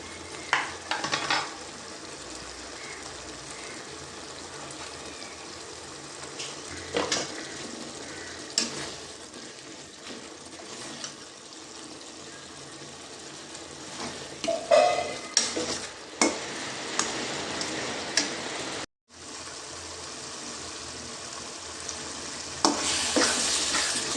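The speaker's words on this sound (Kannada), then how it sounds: "ಈಗ ಕುದಿ ಬರ್ತಾ ಉಂಟು ನೋಡಿ ಟೊಮೆಟೊ ಸ್ವಲ್ಪ ಬೇಯಲಿ" Tomato masala for an egg dish simmers and sizzles steadily in a pan while a utensil scrapes and stirs through it in repeated close strokes, with a brief gap near the end.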